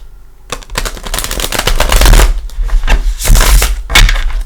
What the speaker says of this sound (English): Give them a shuffle.